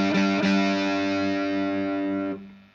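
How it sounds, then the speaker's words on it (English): Cigar box guitar played through heavy distortion, a riff: two quick picked attacks, then a long sustained distorted chord ringing loud and close before cutting off near the end. "So I'll put some distortion on actually to make it sound a bit better."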